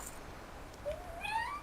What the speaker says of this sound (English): And now he's meowing at us